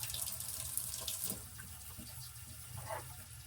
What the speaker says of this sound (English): Let's put some water in these.